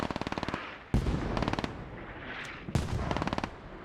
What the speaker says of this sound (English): And Mortars just continuing to pound the hat. MEA Mortars landing in.